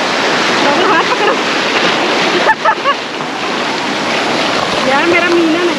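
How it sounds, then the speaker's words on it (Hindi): Sea waves wash onto the shore in a continuous loud surging rush, with short bursts of voices and a child's call breaking through over the surf. "गाइस तो यहाँ पे समुद्री जो है लहर आ गए हैं यहाँ पे"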